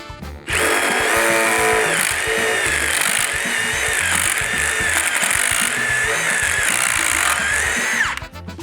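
A power drill bores through a cabinet panel, spitting out chips as it cuts, with a loud, steady high-pitched whine that starts abruptly, holds for about eight seconds, then winds down as the motor stops.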